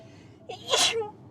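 One sharp human sneeze, close and moderately loud, with a quick intake of breath before it, heard inside a new Audi A5/S5 during a test drive.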